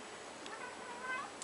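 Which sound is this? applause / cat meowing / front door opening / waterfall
cat meowing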